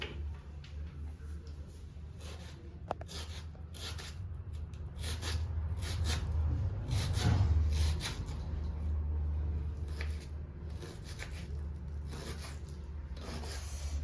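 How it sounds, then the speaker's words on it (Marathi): Onion being finely chopped with a knife on a board in a home kitchen, a steady run of quick, soft rhythmic taps over low background rumble, with no talking. "आता आपण मस्त बारीक बारीक कांदा चिरून घेऊया"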